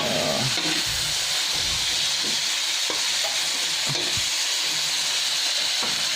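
Butter garlic shrimp frying in a pan, a loud, constant close sizzle with occasional clinks and scrapes of a utensil stirring through it.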